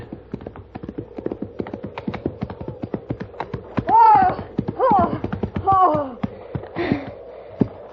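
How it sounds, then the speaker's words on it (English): A horse's hooves clip-clop in a steady, evenly spaced walking rhythm, crisp and fairly close, while a voice talks over part of it. "Look back there, that horse."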